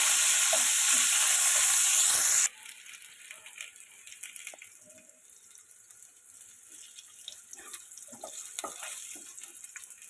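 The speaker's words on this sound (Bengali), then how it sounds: "আলুগুলো লাল লাল করে ভেজে নেব।" Potatoes fry in oil, first with a loud, bright sizzle for a couple of seconds, then settling into a quieter bubbling crackle with scattered pops and utensil clinks.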